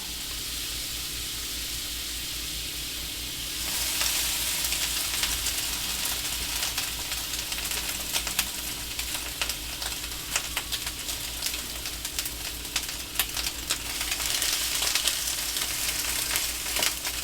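Crab cakes fry in butter on a flat-top griddle, a loud, steady close sizzle that swells after a few seconds into dense crackling and popping, continuing throughout with no voices.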